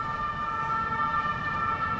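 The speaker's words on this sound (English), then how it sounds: "Even with the sirens blaring" A sustained, steady siren tone wails in the distance over low background rumble, continuous throughout with no talking.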